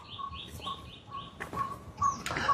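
Small birds chirp outdoors in a quick run of short, repeated tweets, fairly close and steady over a soft background hiss, with a few sharper calls near the end.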